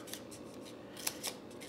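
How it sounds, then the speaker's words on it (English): Scissors snip through paper folded along marks to cut a heart-shaped box pattern, giving several quick, close, crisp cuts in an uneven rhythm, with no voices. "Then you're going to snip your paper."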